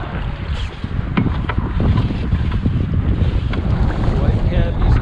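Strong wind buffets the microphone while sailing a reefed boat on Pensacola Bay, a steady loud broadband roar with gusty low rumble and water noise throughout, continuous for the whole stretch.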